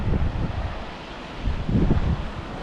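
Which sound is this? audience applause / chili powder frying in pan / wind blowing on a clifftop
wind blowing on a clifftop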